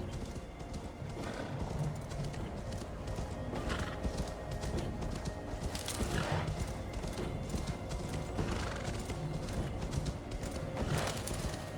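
A horse in the Assassin's Creed Valhalla video game, its hooves clip-clopping steadily and close, with a few whinnies rising over a continuous in-game ambience.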